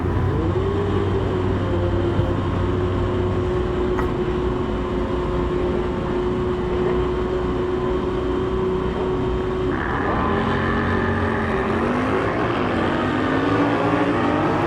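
Drag racing motorcycles, a 2013 Kawasaki ZX-14 and a Harley-Davidson Sportster, roar at a drag strip during a Sunday finals event. Loud sustained engine drone holds a rising pitch, and a second engine tone shifts partway through.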